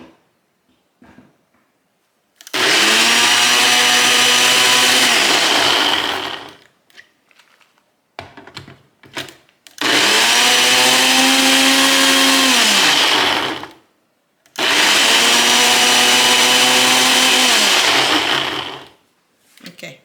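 A loud blender pulverizing leaves whirs in three long bursts separated by short pauses, its motor pitch dipping and rising as it chops.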